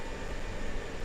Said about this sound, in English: so the train's leaving.